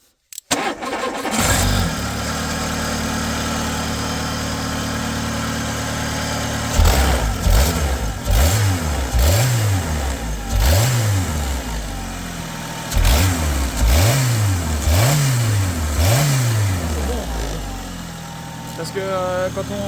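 A Renault Clio 2 1.6 8v cranks and starts, settles into a steady idle, then takes a series of sharp rhythmic throttle blips in two groups, loud and close, with people talking over it.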